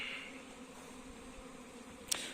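Honeybees flying around their hives on a damp, muddy day make a faint, steady hum, with a brief sharp click near the end and no talking.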